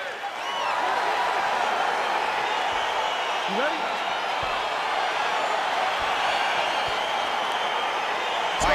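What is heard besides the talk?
crowd cheering as UFC fight gets underway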